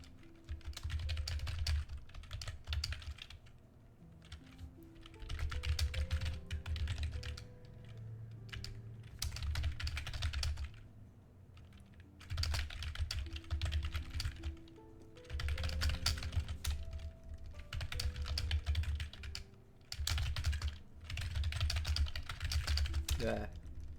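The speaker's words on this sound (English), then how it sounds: "I haven't talked about the keyboard ASMR in a while." Keyboard typing in rapid bursts of close, crisp key clacks separated by short pauses, with a voice speaking softly in the background.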